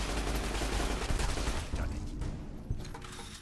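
Dense, sustained gunfire in the post-apocalyptic video game Fallout: New Vegas, loud and continuous with overlapping shots that thin out slightly toward the end, with no speech over it.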